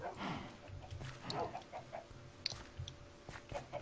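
Minecraft chickens cluck in short, scattered bursts over a busy game soundscape, with faint high chirps and a low rumble running underneath.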